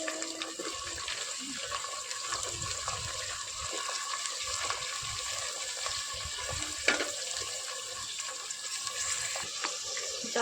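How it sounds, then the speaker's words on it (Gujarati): Mixed vegetables with onion and chillies for Gujarati mixed-veg dhokla sauté in a pan, a soft continuous sizzle and hiss with faint clinks, steady throughout and fairly quiet. "ચલો બકાલું સોતરાય છે"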